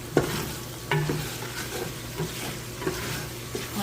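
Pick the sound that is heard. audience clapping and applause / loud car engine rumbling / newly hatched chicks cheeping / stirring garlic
stirring garlic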